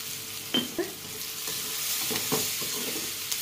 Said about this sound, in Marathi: कांदा असा छान भाजून घेतला की नाही